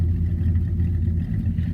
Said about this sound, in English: compared to my truck, which you can hear from all the way over there.